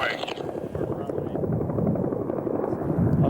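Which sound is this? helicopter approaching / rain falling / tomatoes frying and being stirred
helicopter approaching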